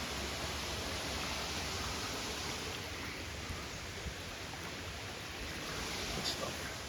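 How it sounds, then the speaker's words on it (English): Continuous broadband rush of a waterfall, a steady hissing roar heard from nearby with little variation throughout. "we found the waterfall"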